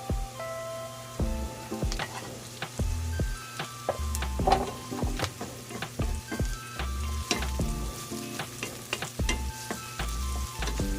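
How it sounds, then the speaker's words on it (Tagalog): Garlic and long chili sizzle steadily in a hot frying pan for squid adobo, with repeated stirring clatters and scrapes over the continuous frying hiss, close and alone with no talking. "Bawang at saka siling haba ipagsama na natin."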